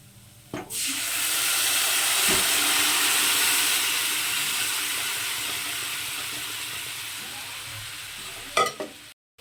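Boiled rice cooked with fish head and potato is poured into a hot pan of fried ingredients for fish khichdi, setting off a loud, steady sizzle that holds for several seconds with a few knocks at the start and end.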